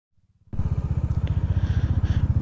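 A Bajaj Dominar 400 motorcycle idles with a soft, low putter, then its engine surges loudly into a close, throbbing, rhythmic thump as the bike pulls away.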